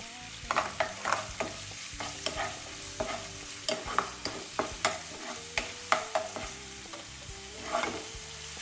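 Ginger garlic paste frying in oil for a chicken roast, a steady sizzle punctuated by repeated sharp scraping strokes of a spoon stirring in the pan, close and alone.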